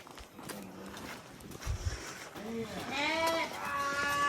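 Avishaan ewes and their 3 to 4 month old lambs bleat in their pens at a sheep and wool research institute in Avikanagar, with several overlapping cries building toward the end over background chatter.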